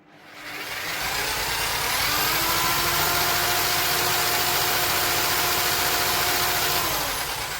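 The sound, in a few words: scratch-built hit and miss engine running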